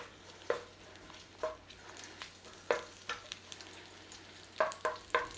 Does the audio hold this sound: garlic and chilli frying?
yes